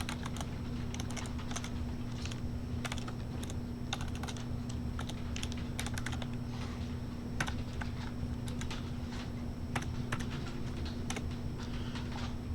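Rapid computer keyboard typing while coding, a continuous, close clatter of keystrokes with irregular bursts and brief pauses over a faint steady hum.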